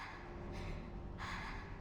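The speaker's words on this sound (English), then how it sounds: "is that Miku panting?" Miku, a character in the horror video game Fatal Frame, pants in short breathy gasps, two sharp bursts standing out over a steady low background hum.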